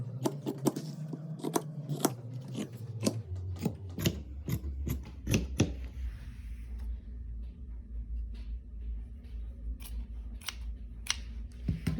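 Scissors snip through fabric while an oversized sweatshirt dress is cut out, a quick run of close, crisp cuts for the first half, then sparser single snips over a low steady rumble.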